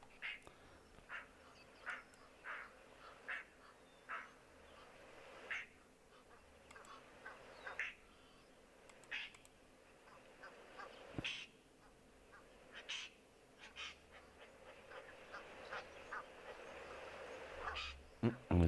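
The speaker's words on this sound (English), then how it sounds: "Listening to this roller is very interesting" A roller bird gives repeated harsh, croaking calls in a steady series out in the wild, moderately distant over quiet ambient nature sounds.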